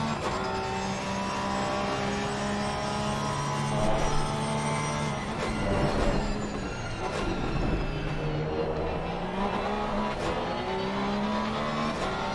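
A Porsche GT3 race car in a sim racing game, running through the Corkscrew at Laguna Seca: a loud, continuous engine drone with shifting pitch as it brakes and accelerates, plus multiple cars audible around it.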